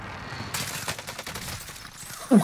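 Gunfire in the Call of Duty Warzone Mini Royale mode, a rapid fusillade of close shots cracking in bursts against game ambience, with a loud hit at the end.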